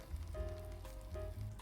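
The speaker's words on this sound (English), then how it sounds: "Wow, it is sizzling." Raspberry Tosca cake with its almond-butter topping sizzling in a hot oven during the final bake, a steady crackling fry with a low oven hum underneath, fairly quiet and continuous.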